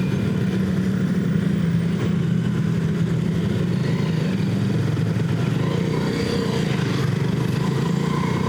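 Yamaha Jupiter Z motorcycle engine held on the throttle in stop-and-go traffic, a steady, loud, close mid-pitched drone with other engines around, no pauses throughout.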